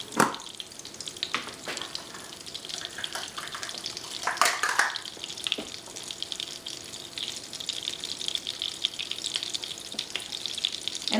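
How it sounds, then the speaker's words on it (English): Plain white flour drops into melted butter in a pan, a steady broadband sizzle with a few sharper crackles and stirring scrapes running throughout, close and moderately loud with no talking. "Now since our butter is melted, let's go ahead and add that half a cup of flour"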